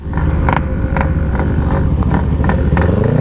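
A Yamaha RX King two-stroke motorcycle runs close and loud, its engine held at a buzzing high rev with a rapid, rattly exhaust beat and regular sharp pops throughout.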